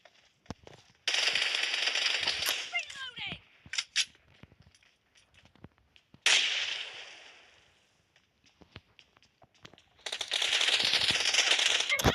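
Video game machine-gun fire comes in long sustained bursts, one near the start, another mid-way and a third at the end, separated by quiet gaps with scattered clicks and single shots; the bursts are loud and sharp-edged.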